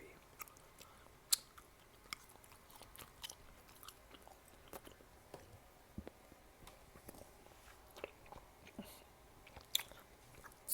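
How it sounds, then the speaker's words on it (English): Stick gum is chewed close to the microphone in soft, wet, irregular smacks and clicks, quiet and intimate in an ASMR style, with no speech over it. "Crack open another stick of gum to get this extra chewy."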